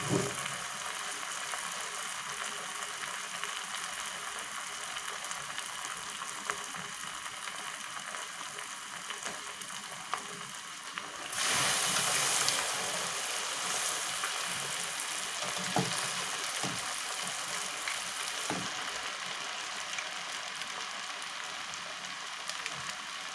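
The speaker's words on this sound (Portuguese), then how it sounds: "Pronto, gente, agora vamos fritar. Colocar com cuidado no óleo quente." Crispy chicken croquettes sizzle steadily in hot oil, a dense continuous frying hiss that swells briefly midway, with faint clicks and no talking.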